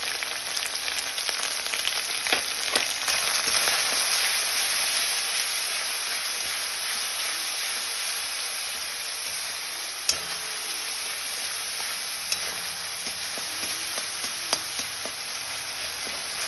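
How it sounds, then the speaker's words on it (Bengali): Ground turmeric, chilli, coriander, cumin and salt cooked with tomato and ginger for a potato curry, sizzling steadily in a pan throughout, with a few sharp clinks and scrapes of stirring. "এরপর বেশ খানিকক্ষণ এটা নেড়ে নেড়ে কষিয়ে নিতে হবে।"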